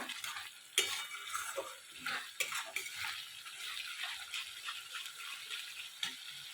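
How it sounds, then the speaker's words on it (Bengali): Spices being stirred and fried in a pan for palak paneer, with a spoon scraping and clinking against the metal in irregular strokes over a soft, faint sizzle. "আমি এটা মিক্স করে নেব এইভাবেই আমি মশলাটাকে ভালো করে কষে নেবো"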